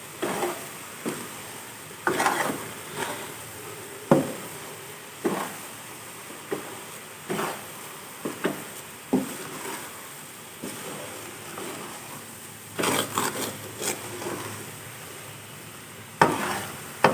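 A spoon stirs besan roasting in ghee in a pan for panjiri, with a regular run of scraping strokes against the pan bottom over a faint, soft sizzle, close and clear with no talking.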